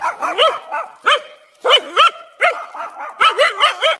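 A dog barks repeatedly in short bursts, close and loud, with brief pauses between clusters of yappy barks.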